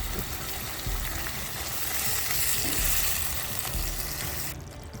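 Tomatoes frying in a pan for dhaba-style palak paneer give a steady, close, broadband sizzle that holds evenly before the bright hiss drops away near the end, with no talk.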